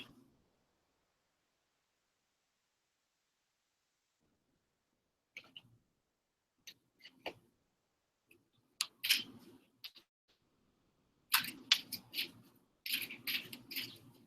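Tarot cards being shuffled by hand, quiet close riffles and soft slaps in scattered short bursts separated by silence, growing busier toward the end.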